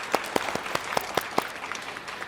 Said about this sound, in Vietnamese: Xin dành một tràng pháo tay để chào đón bác Long.